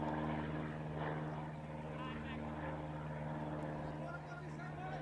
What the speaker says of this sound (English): So we hear another Cessna go over.